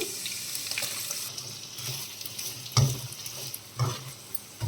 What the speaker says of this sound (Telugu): ఆనియన్స్ ఫ్రై చేసుకుందాం